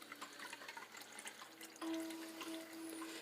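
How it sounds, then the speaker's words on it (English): Water runs steadily to fill a basin, a continuous faint rushing pour that shifts slightly in tone partway through as the level rises, with no voices. "I'm going to fill this basin with moon water."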